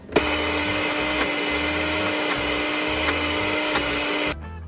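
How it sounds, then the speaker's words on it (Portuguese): A blender whirs steadily at high speed with a pulsing low churn, loud and continuous, then cuts down abruptly near the end. "eu fiz no liquidificador"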